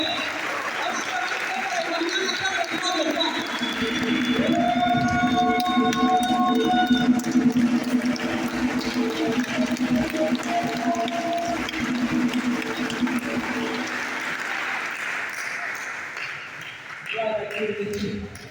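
A church congregation applauding, sustained clapping from a full room that carries on for most of the stretch with scattered cheers and voices mixed in, then fades out.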